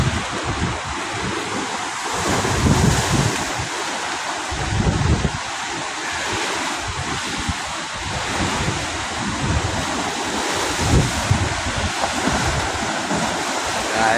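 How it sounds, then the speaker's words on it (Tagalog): Big storm-driven sea waves pound the Manila Bay dike, a loud continuous roar of surf with surges of heavy low crashing, mixed with strong wind buffeting the microphone. "Dahil lalaki ng alon mga kapising."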